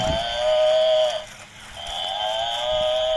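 A cow lows in two long, drawn-out calls with a short break between them, close and fairly loud, out in the open beside a small toy buffalo, with no talk.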